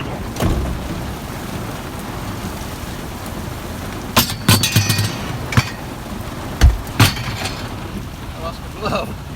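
Rain falls outdoors during trash picking, a steady close hiss overlaid by sharp knocks and thumps of handled objects, with brief talk partway through.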